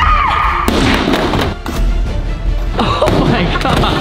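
A television is smashed inside a warehouse, with heavy thuds and crashing impacts coming close and loud in several bursts, while people talk over the noise.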